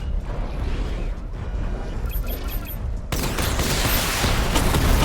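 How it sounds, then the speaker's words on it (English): A missile barrage fires in Batman Arkham Knight, a dense, loud roar of mechanical whirring and rapid bursts that grows heavier midway, with beeping tones over continuous explosive noise. "Charge up missile barrage to level 2 and destroy 4 active targets to complete diagnostic test."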